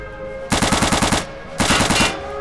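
Venom gun firing in Return to Castle Wolfenstein, two loud rapid bursts of about seven shots each separated by a short pause, close and dominant.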